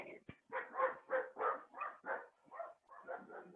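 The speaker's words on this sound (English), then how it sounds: "every time the dog barks" A dog barks in a run of about ten evenly spaced barks, faint and somewhat distant, heard on its own against a quiet background.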